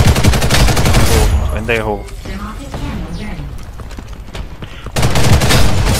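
Turret gunfire in the video game Ghost in the Shell: Stand Alone Complex First Assault on PC rattles in dense bursts at the start and end, with excited voices talking over the shooting in between.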